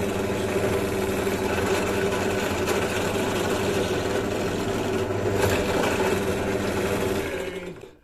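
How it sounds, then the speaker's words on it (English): A small drill running steadily as it bores a tiny rivet hole in a handmade shoto lightsaber hilt, a continuous close whine at even loudness that winds down at the end. "I'm just going to drill a tiny hole here and put a rivet in place"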